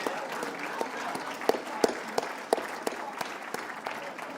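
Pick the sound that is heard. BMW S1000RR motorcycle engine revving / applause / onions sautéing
applause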